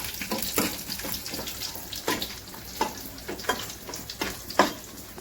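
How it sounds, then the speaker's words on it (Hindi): Salted fish fries in hot oil with a steady sizzling hiss, broken by irregular sharp crackles and spits, close and continuous with no talking. "मछली फ्राई कर रहे थे"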